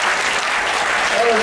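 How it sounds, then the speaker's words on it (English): Audience applause at an evening game show on a Carnival cruise ship, a dense, loud wash of many hands clapping at once, steady throughout, with a voice in the crowd. "Give him a round of applause, folks."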